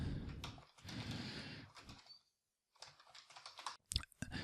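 Typing on a computer keyboard, a quick run of light clicking keystrokes, close and fairly quiet, broken by a short pause and followed by a few more scattered key taps.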